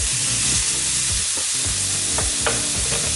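Onion and garlic mixture sizzles and crackles in a paella pan, close and steady, with the scrape of a utensil stirring it around the edge.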